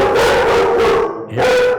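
A dog barks repeatedly and loudly right beside a live-streamed gaming computer build session, a rapid run of sharp, close barks with a short gap before another burst.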